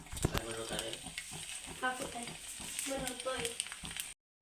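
An egg fries in a pan on a gas stove, giving a steady crackling sizzle with scattered pops and stirring scrapes, moderately close, with no talk over it.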